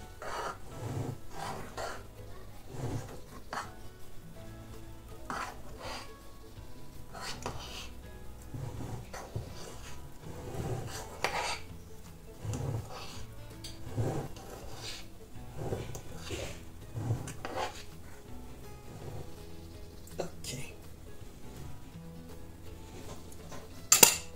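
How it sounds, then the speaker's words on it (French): Marble cake batter stirred with a fork in a bowl, the fork scraping the bottom to fold the layers, giving repeated soft clinks and scrapes at a close, steady pace with no talk. "Je la remue pour réaliser le marbré."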